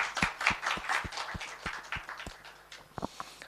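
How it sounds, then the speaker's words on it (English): An audience at a live health-sector technology talk claps in a quiet, sparse burst, with individual claps spaced out and fading toward the end. "A big round of applause for all of you."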